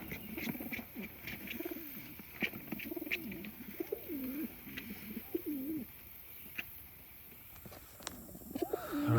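Racing homing pigeons in a loft give repeated soft, rolling coos near at hand, with light wing flutters and scattered small bumps between the calls.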